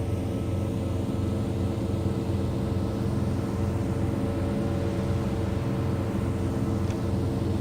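Steady, loud drone of a DHC-6 Twin Otter's twin turboprops at climb power in a flight simulator, a continuous low rumble with even tonal hum that holds unchanged throughout, with no talk.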